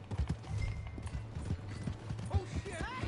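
Horse hooves clip-clop steadily in Red Dead Redemption 2, with a brief whinny-like rise near the end. Game voices talk over the hoofbeats.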